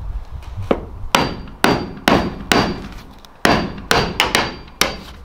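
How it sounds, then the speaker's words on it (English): A hammer strikes metal repeatedly while riveting an RV roof vent on a vintage camper, about a dozen sharp ringing clangs in an uneven rhythm, loud and close. "Will you hand me the hammer, please?"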